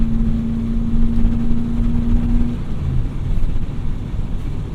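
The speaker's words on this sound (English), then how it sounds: "once the secondaries open up, it doesn't sound bad" An Oldsmobile Cutlass Supreme 442 engine drones loudly with a steady tone, then surges and roughens as the carburetor secondaries open partway through.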